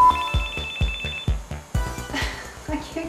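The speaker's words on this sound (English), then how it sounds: "I can't get my cell phone out." A cell phone rings during a presidential address at an ACL event. It plays a repeating ringtone pattern of bright, plucked tones over about three seconds, fairly loud in a room with faint background voices.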